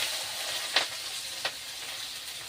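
Onions sizzle in a pan of hot oil over a wood fire, a steady frying hiss with two brief, sharper crackles standing out above it.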